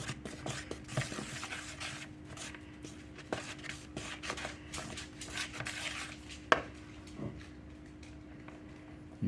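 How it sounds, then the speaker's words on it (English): Flour, pumpkin spice and sugar being sprinkled into a bowl and mixed for sugar cookie dough, with scattered light taps, scrapes and clinks of utensil against bowl at an uneven pace, fairly quiet and close. "I'm just going to sprinkle a little bit at a time, just to incorporate it."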